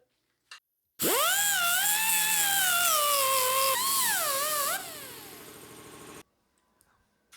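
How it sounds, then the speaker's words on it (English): An angle grinder works down welded handmade metal patches on the rusted roof corner of a 1994 Jeep Cherokee XJ, spinning up into a loud, high whine that wavers in pitch as it bites, then winds down. "we'll grind it all down"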